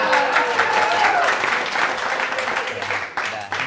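A studio audience on an Indonesian comedy talk show breaks into dense, steady applause that carries for several seconds while voices talk over it, easing slightly toward the end.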